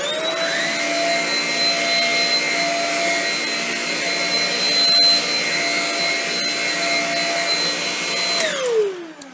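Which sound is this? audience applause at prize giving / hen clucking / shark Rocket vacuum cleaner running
shark Rocket vacuum cleaner running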